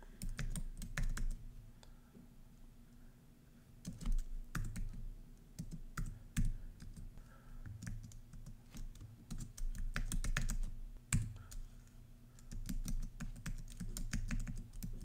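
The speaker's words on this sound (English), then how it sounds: "Here you want to type the exact command you executed in the previous" A shell command being typed on a computer keyboard, with bursts of quick key clicks and brief pauses that continue steadily for several seconds, close and clear, with nothing else audible.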